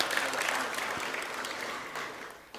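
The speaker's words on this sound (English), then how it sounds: "Let's give him a clap." An audience at a national career conference claps for a board member, a dense continuous round of applause from a crowd, fairly loud and sustained throughout.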